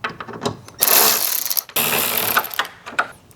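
A hand ratchet loosens 10mm bolts holding the bottom of the grille on a 2022 Chevrolet Silverado 1500, giving close, loud rapid clicking runs in several bursts with short pauses between.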